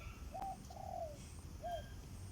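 A black, long-legged stork-like bird gives three short, soft calls, two close together and a third after a pause, faint over low background rumble.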